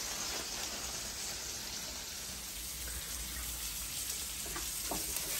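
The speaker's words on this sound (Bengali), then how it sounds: "আমি বেগুন গুলো একটু ফ্রাই করে নিচ্ছি" Eggplant pieces seasoned with turmeric and salt fry in a pan, giving a continuous soft sizzle and crackle with no one talking.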